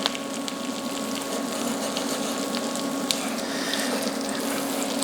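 Crab cakes bound with egg fry in a small pan, giving a steady, close sizzle with faint crackles and pops throughout, no voices.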